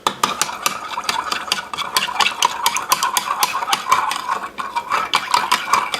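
Eggs and a quarter cup of olive oil whisked together for buckwheat almond flour waffle batter, a steady run of quick utensil clicks and scrapes against a bowl, close and continuous.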